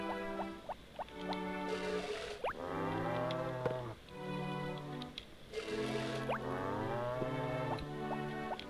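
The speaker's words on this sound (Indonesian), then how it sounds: "Sapi masih kecil ya guys" Cattle in the Harvest Moon Friends of Mineral Town video game moo in long, drawn-out calls, repeating several times in a steady cycle with small drips and squelches woven through the game sound.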